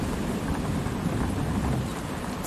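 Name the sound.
rain in the video game Drug Dealer Simulator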